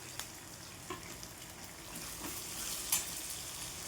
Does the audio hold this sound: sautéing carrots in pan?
yes